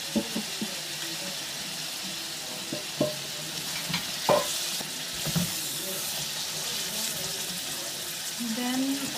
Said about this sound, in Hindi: असी इहदे विच सोया सॉस ऐड करांगे और इहनू मिक्स कर लेंगे।